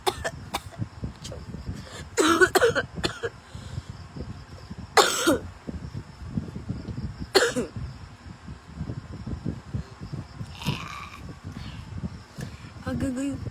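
A person coughs in several sharp bursts, spaced a few seconds apart, over steady low background murmur and voices; the coughing is close and clearly stands out from the surrounding noise.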